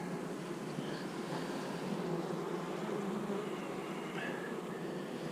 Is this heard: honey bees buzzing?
yes